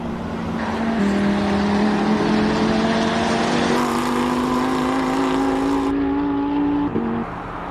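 Audi R8 racing up the Simola hill climb, its engine roaring loud and close with a high sustained howl, shifting pitch through gear changes before the sound drops away.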